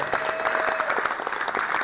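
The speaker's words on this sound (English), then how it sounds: "clap it up" An audience at a university panel event claps steadily for an introduced guest, the applause close and continuous throughout.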